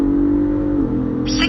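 Stock Ford Bronco Raptor pulling hard through a Dragy timing run, steady engine drone rising in pitch then shifting, loud and close inside the cabin, with a brief voice at the end.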